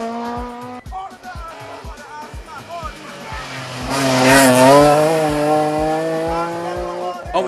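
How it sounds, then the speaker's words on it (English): A Toyota Starlet rally car races in Rally Barbados 2011, its engine revving up and changing pitch as it passes close by, with the roar swelling midway, heard under a commentator's voice. "Despite his determined driving of the Toyota Starlet, Reed was second in the class"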